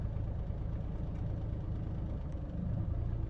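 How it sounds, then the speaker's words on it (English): A car engine idles at a low, steady rumble while its idle speed is adjusted through a Topdon ArtiDiag Pro bi-directional scanner. The hum is faint and even, with no voices. "just changing idle speed there"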